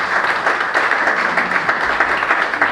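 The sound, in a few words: audience applause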